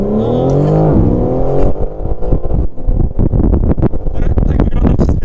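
A BMW M4 Competition accelerates hard, its engine note climbing sharply for a second or so before giving way to loud wind buffeting and rushing noise inside the moving car.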